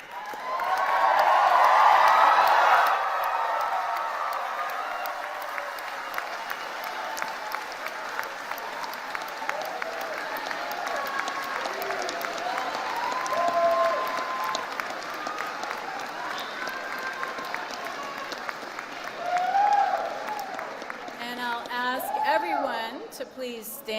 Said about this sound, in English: So why don't we stand up and cheer each other?